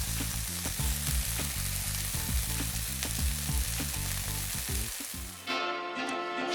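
Cheeseburger sliders topped with cheese sizzle steadily on a grill, a dense close frying hiss with faint rhythmic clatter, easing briefly before the sizzle returns alone near the end.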